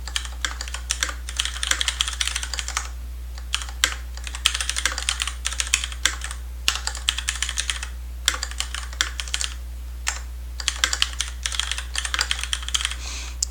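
Steady typing on a computer keyboard, brisk clusters of key clicks broken by brief pauses, close and fairly quiet over a low constant hum, with no talking.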